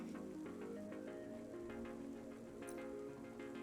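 Rain pattering steadily on surfaces outside a small restaurant in the Cloudpunk video game, faint and continuous, with soft music playing alongside.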